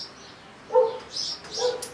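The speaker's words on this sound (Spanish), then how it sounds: "mis perros están hoy súper pesados" A few dogs give short, sharp barks outdoors in a garden during bonsai work on rock, one loud yelp followed by two softer barks, close by.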